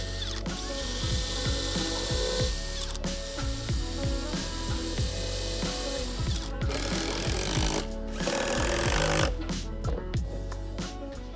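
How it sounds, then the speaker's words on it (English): A drill boring holes through the wooden fence of a table saw crosscut sled, several loud bursts of whirring and ratcheting bite close by, with short pauses between holes. "And I'm gonna drill 5 holes, 3 on one side of the kerf and"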